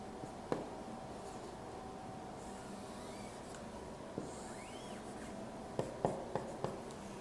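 Pen on paper drawing a graph by hand for a math problem, faint scratchy strokes and a few light taps scattered across a quiet room tone, no talking.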